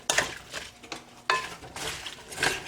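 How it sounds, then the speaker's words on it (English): A spoon stirs sugar into chopped rhubarb in a cooking pot, giving soft scraping swishes and light clinks in a few uneven strokes, close and fairly quiet. "So I just like to mix in the sugar"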